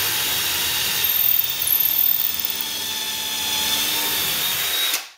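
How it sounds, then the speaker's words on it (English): Drill boring pilot holes in a wooden cabinet face frame, a steady high whir with a brief rising spin-up near the start, running close and alone before cutting off abruptly. "So we're going to be able to drill all of our pilot holes and then install all of our screws all at once."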